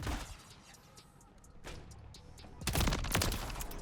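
A BAL 27 rifle fires in Call of Duty: Modern Warfare III, first in short scattered shots, then in a loud rapid burst near the end.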